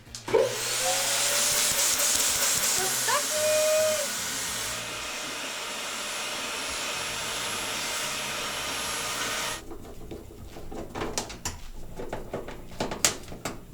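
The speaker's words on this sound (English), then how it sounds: "Put this part on the end of your vacuum, just like that, and then turn your vacuum on." A vacuum cleaner roars loudly and steadily with a high whine that shifts as it is moved, then it switches off, leaving faint clicks and rustling.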